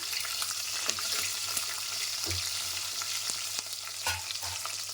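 Onions for potato pulao sizzle steadily in a hot pan, a constant crackling fry with scattered scraping strokes of a spoon stirring through, close and continuous.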